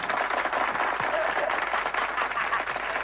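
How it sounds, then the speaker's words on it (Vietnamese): Children in a studio audience at a television show clap together in a steady, dense round of applause that holds evenly throughout, with no one speaking over it. "Một tràng pháo tay thật to lên nào các em."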